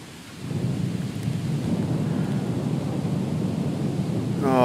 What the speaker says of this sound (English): Oh great, and now it's raining.